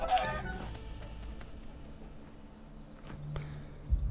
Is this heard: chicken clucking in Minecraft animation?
yes